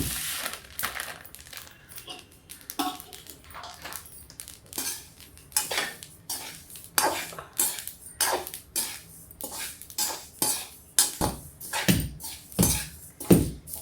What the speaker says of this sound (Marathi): आता तीळ भाजून घेऊया.